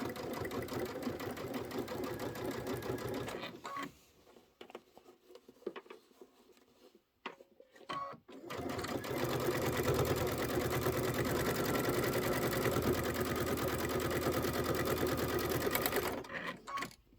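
A sewing machine stitches through layers of a Kimberbell Candy Corn quilt with muslin, running steadily in two long loud bursts split by a quieter pause with small handling noises.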